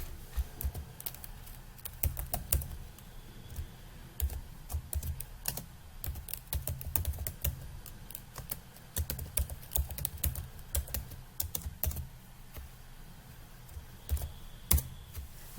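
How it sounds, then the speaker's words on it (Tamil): Fingers tap steadily on a computer keyboard while someone enters Python code, quick clustered clicks with brief pauses, close and clear in a quiet room. "இப்ப இதுலயுமே நீங்க டைப் பண்ணி பார்க்கலாம் பாரு"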